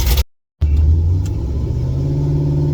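A car engine rumbles loudly and close up after a brief cut, holding a low steady drone as the vehicle pulls away.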